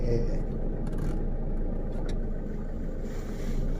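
A manual-transmission Toyota Vigo pickup truck underway, its engine a steady low drone heard from inside the cab with a faint rise in revs, and only a brief murmur of voice.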